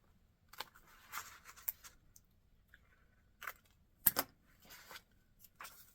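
Scissors snip through an extra magazine page during fore-edge book folding, a few crisp cuts and rustles in a quiet room with short pauses between them.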